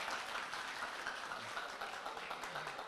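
Single members of a church congregation applaud during a sermon, a dense, even wash of clapping heard from across the room and fairly faint, with no voices over it.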